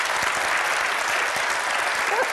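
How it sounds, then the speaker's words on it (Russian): Steady applause from a theatre or studio audience, dense and even from start to finish with no voices cutting through. "Что вы аплодируете?"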